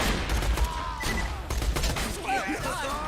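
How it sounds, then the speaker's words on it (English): Rapid gunfire bursts from a fire needle pistol in Borderlands 2, dense repeated shots across the clip with effects and a faint voice beneath. "I like my little fire needle pistol."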